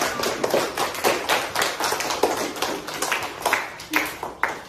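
Classroom group clapping, a quick run of sharp uneven hand claps from several people, fairly close and lively throughout.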